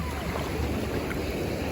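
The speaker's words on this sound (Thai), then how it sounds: "คลื่นแรงมาก" Strong sea waves at Sattahip on the Thai coast roar as a steady, loud wash of rushing water with no pauses, close by and unbroken throughout.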